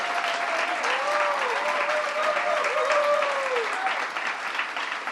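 Audience applause at a bill-signing event for a farmworkers bill sponsor, a dense, loud, sustained clapping crowd with a few vocal tones rising over it.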